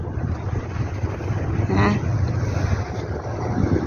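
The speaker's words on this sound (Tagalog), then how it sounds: "malamig, mahangin, maalon ang gabi." Strong night wind buffets the microphone over a low, rumbling roar of rough sea at Pretty Bay, with a brief faint voice in the middle.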